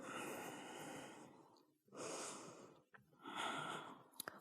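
Slow, audible breathing during a yoga headstand hold: three long, airy breaths separated by pauses, close to the microphone and with no talking, followed by a few sharp clicks and a bump at the end.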